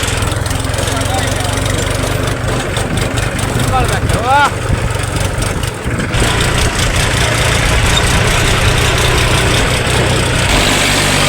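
A tractor engine labours steadily up a steep hill road near Hingolgadh, a loud continuous low drone with rattling that barely changes as the climb goes on.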